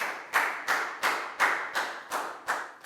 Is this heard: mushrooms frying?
no